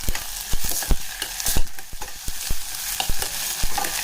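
Onions fry with ginger-garlic paste in a pan in a home kitchen, a spatula scraping and clacking in an uneven rhythm of sharp strokes over a steady close sizzle, with no voices.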